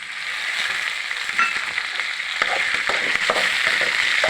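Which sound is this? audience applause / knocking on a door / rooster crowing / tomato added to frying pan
tomato added to frying pan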